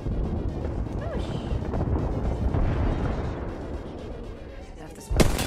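Frag grenade explosion in the video game Apex Legends, a deep rumbling boom that fades slowly, followed by a sharp loud crack near the end, with a person talking.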